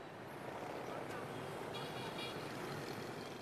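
Dense street traffic in Hanoi, Vietnam, a steady roar of engines with scattered horn toots, near and continuous throughout.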